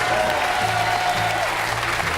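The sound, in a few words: audience applause and cheering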